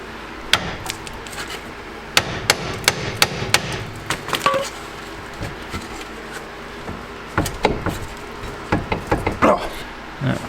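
Hammer tapping a tie rod end into the steering knuckle of a Jeep Compass, Patriot or Dodge Caliber: a string of sharp metallic knocks, some single and some in quick clusters, close and fairly loud over faint shop background.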